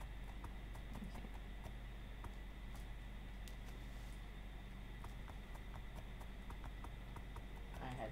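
A mule's hooves clip-clop faintly in a steady walking rhythm in Minecraft, with soft ticking clicks over a low ambient hum.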